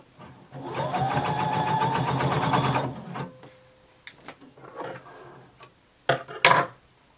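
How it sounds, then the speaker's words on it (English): A sewing machine stitches across folded seam allowances of a bodice band at a 5/8-inch seam, a steady close whirring run of about two seconds, followed by scattered clicks and handling taps. "Make sure your seam allowances stay flat when you sew over them."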